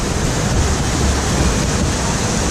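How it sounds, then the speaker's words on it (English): Water rushing and churning at a water ride in Parc Astérix theme park, a loud, steady, close roar of spray and surging flow that never breaks, with no voices over it. "That's another water ride over there."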